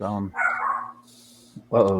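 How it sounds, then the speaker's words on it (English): A dog barks in a couple of short, loud bursts at the start and end, with voices talking in the background. "his dog's going off"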